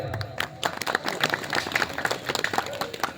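Audience at a satsang gathering applauding: a dense, steady patter of many hands clapping together for a few seconds, moderately loud and close.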